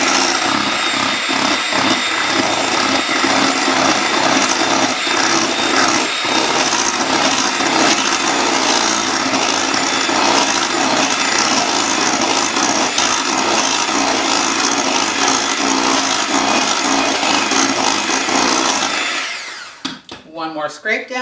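Chocolate cake batter is beaten steadily in a bowl by an electric mixer, producing a loud, continuous whirring drone that runs unbroken for most of the clip and then cuts off near the end.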